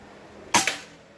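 Second shot from an orange Pajero Gun Gen 5 PCP air rifle outdoors in wind, a sharp close crack followed quickly by a softer impact knock, standing alone against quiet background.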